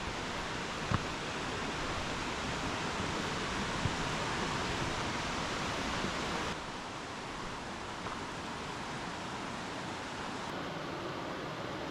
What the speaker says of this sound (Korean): 물소리는 점점 더 커집니다.